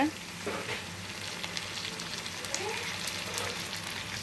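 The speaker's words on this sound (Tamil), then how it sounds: "இந்த தக்காளி பழத்தை போட்டு நல்லா கொஞ்சம் வதங்க விடுங்க" Onion and tomato sautéing in a pan for a chickpea dish, with a steady close sizzle of oil and occasional stirring scrapes throughout.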